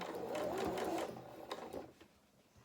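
A sewing machine stitches a seam on fabric for a stuffed cat's body, running steadily for about a second before trailing off into quieter handling noises.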